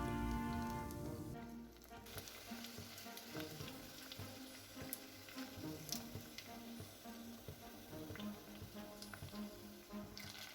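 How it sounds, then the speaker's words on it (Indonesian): Tofu snack pieces deep-fry in plenty of oil over medium heat, giving a faint, steady sizzle scattered with small crackles and pops heard up close. "goreng hingga berwarna kecoklatan dengan menggunakan api yang sedang"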